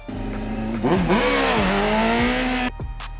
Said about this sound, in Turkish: O sırada gazı verdiğimiz anda debriyajı salıyoruz.